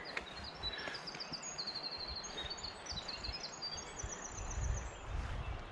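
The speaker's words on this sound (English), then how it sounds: "Thought you should hear a little bird song before we got to the river." Songbirds trilling and chirping in quick high phrases through the woods on the way to a river, faint and somewhat distant over steady rustling outdoor background, with no talking.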